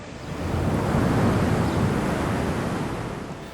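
Sea waves crash and roar inside a coastal cave on Japan's Noto Peninsula, a loud, dense wash of surf that swells and slowly fades, with no voices.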